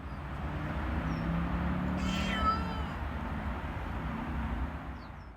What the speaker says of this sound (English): he gave out one big meow